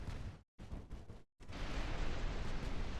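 A torpedo strikes a warship in the naval battle game Ultimate Admiral Dreadnoughts, giving a loud, broad roaring blast broken by two brief silences before a sustained rumbling wash of noise.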